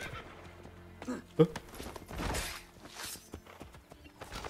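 A horse in Assassin's Creed Brotherhood gives a short whinny, with clip-clopping hooves and game ambience around it. A person talks over the sounds.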